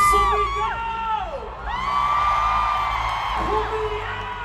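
A concert crowd at an ASAP Natin To show in California roars with cheers, whoops and shouts, loud and continuous, with rising and falling yells over the din.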